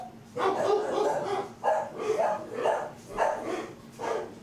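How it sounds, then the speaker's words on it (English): Several dogs bark angrily in a run of loud, repeated barks, about five bursts spaced roughly half a second apart, heard nearby indoors. "Wow, the dogs are really mad today."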